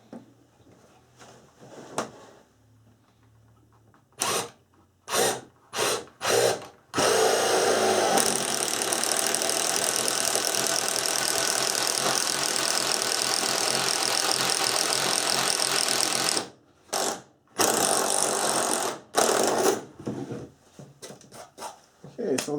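A power drill bores holes through a wooden sole plate during a bathroom remodel. A long, loud, steady grinding whine runs for about ten seconds, framed by short stop-start bursts of the drill and close handling noise.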